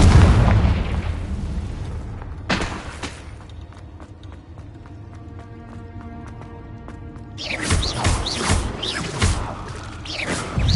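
Explosive spell blasts in the video game Hogwarts Legacy, loud booming bursts at the start and a cluster of crackling detonations near the end, with busy battle noise between.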